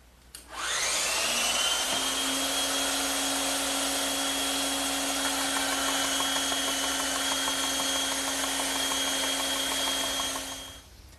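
A saw spins up with a rising whine and then cuts a heavy, tapered wooden trestle table stretcher, a steady high-pitched motor hum with faint chattering that runs for about ten seconds before winding down, close and without talk.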